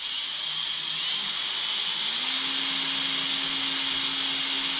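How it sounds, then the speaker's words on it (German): A drill with a sharp bit grinds steadily into the gaps between wall tiles, a continuous high whine with a hum that steps up in pitch partway through, close and loud, with no talking. "mit einem frischen Bohrer, der noch richtig scharf ist, in die Zwischenräume der Fliese eindringen"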